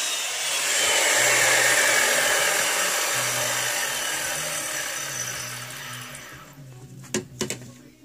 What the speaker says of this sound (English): You'll use the electric sander to sand the edges of each piece of pipe.